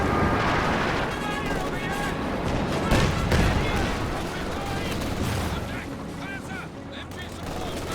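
Machine gun fire and battle noise in Company of Heroes 2, a dense, continuous wash of rattling bursts and distant booms that stays loud throughout, with a voice talking faintly underneath.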